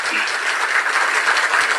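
Loud, dense applause from the crowd at a pension distribution gathering, a continuous roar of many hands clapping together that runs the whole time without letup.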